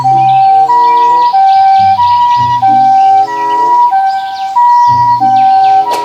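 A toy ambulance plays a loud electronic siren, a two-tone wailing pattern repeating in short cycles close to the microphone, with chirpy synthetic overtones.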